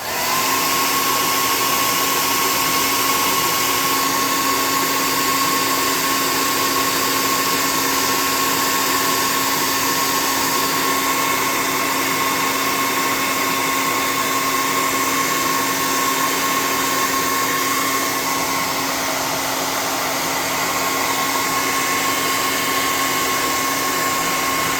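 Hair dryer blowing a wet paint brush dry, a loud continuous whooshing roar with a steady whine, held close for the whole stretch with no talking.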